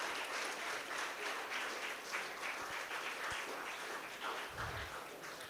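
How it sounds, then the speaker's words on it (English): Audience applause fills a valedictory ceremony for National Ayurveda, a steady wash of many hands clapping throughout, fairly loud and continuous with no break. "Clap for yourself."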